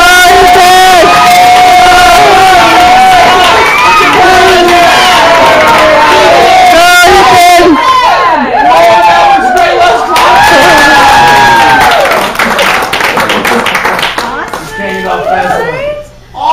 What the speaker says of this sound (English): Cheer for him! Go!